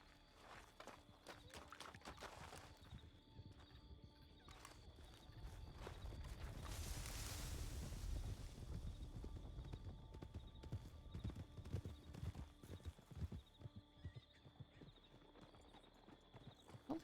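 Horse hooves clip-clop in RedM, a run of rhythmic hoofbeats that swell louder in the middle as the horse passes close, with a brief whinny-like burst and faint game ambience around them.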